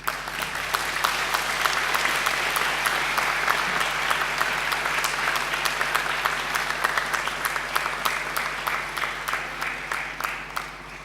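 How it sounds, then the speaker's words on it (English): Graduates at a graduation ceremony give a mighty round of applause to their families and friends, a large hall filled with dense, sustained clapping that holds steady and loud for the full length, easing slightly near the end. "And now I want you to give them a mighty round of applause"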